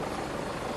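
A black helicopter flies low overhead, its steady broadband rotor and engine roar sustained and loud throughout without a break.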